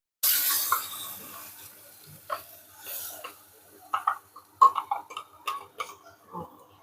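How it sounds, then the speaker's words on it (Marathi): Water splashes into coconut chutney paste in a village kitchen, starting with a brief loud pour and then trailing into scattered soft drips and small clicks close by. "बघा जरासा मी ह्याच्यात पाणी टाकते."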